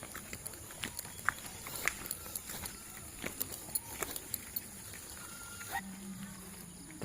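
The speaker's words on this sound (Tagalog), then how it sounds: "Taba ng kabayo, oh." A horse walks along a rural province road, its hooves clip-clopping in a loose, uneven rhythm at moderate distance, with people talking nearby.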